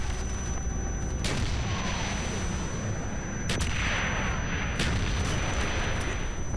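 Gunfire in Call of Duty Black Ops: a few sharp, separate shots crack over a constant rumbling battle din, fairly faint overall.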